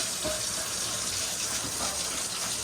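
Tap water runs steadily over a combi boiler part being rinsed in a sink. It is a continuous close splashing gush with no talk.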